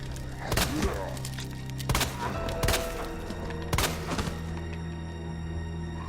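Handgun shots fired at a zombie in the Resident Evil 2 Remake, a few sharp, loud reports spaced seconds apart over a steady game-ambience hum, with no talking.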